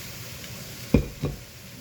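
Ground beef and wild rice stirred in a pan, with a quiet low sizzle and two soft scraping thuds of the spoon close by.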